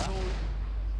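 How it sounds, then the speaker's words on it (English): Gunfire and rockets boom during an Arma 3 military game session. A dense, continuous rumble of heavy fire fills the whole short moment at steady, loud volume. "Who's shooting? Who's firing rockets?"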